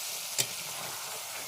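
Hot water poured into a pan of thick, well-fried rooster (cock chicken) curry gives one sharp splashing burst of sizzle, then a steady soft bubbling frying hiss that carries on alone.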